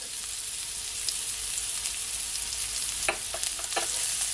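Onions and garlic fry in oil for a honey garlic salmon dish, a steady close crackling sizzle with a few louder bursts of stirring near the end, no talking.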